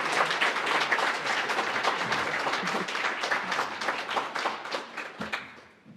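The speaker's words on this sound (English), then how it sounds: "Let's give her a round of applause." Audience applause for a woman lecturer at the close of the Ida Wise East Memorial Lecture, a dense, steady clapping that sustains for several seconds, then thins and fades out near the end, with a faint voice at the tail.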